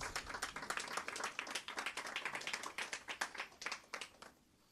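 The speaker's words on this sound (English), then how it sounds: "could you give her a round of applause, please?" A modest audience at a public library celebration for National Librarian Day claps in a lively, uneven patter of many hands, close and fairly quiet, then the applause stops abruptly near the end, leaving a quiet room.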